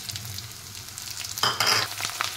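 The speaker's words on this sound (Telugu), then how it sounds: "ఎండుమిర్చి వేసుకొని బాగా దోరగా ఫ్రై చేసేసుకుందాము" Dried red chillies frying in tempering oil, a steady close hiss of sizzling that swells louder partway through as the oil spits more vigorously.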